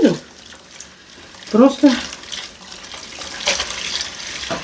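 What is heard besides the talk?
hot water running from a tap for cleaning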